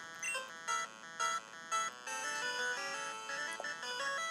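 Repeating electronic beeps from Pokémon Yellow's low-health warning, a pulsing alarm-like tone over game music, loud and steady with a regular on-off rhythm through the whole stretch.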